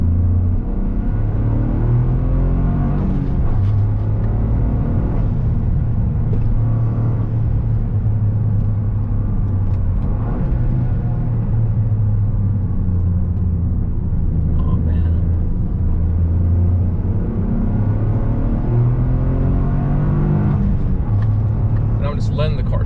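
Toyota GR Corolla engine revving on a winding mountain road, a loud steady in-cabin drone rising and falling with acceleration and gear changes for the whole stretch, with a few scattered thumps.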